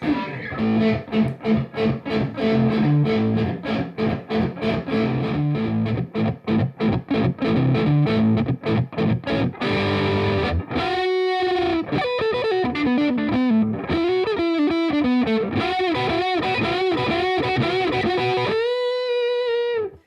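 Dimed, heavily distorted electric guitar first playing fast chugging chords and then sustained bending lead notes with squealing overtones, loud and close.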